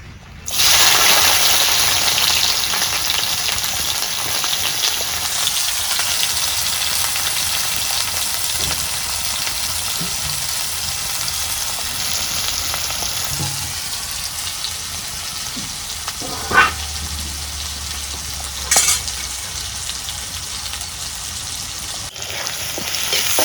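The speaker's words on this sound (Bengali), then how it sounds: "এখন আমি সরষের তেল দিয়ে দিই। পেঁয়াজ কুচি দিয়ে দেবো।" Chopped onion frying in mustard oil for a beef curry with new potatoes, giving a steady, loud, close sizzle that holds for the whole stretch, broken only by a couple of brief knocks and bumps near the end.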